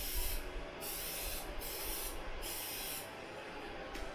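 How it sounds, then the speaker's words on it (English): Spray paint can spraying during a WWE NXT wrestling segment: a steady loud hiss lasting several seconds, broken by a few brief pauses, with a broadcast noise bed underneath. "And with that paint spray, what is she trying to do with that paint spray now?"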